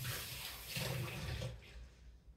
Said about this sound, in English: I think I'm gonna add a smidge more water.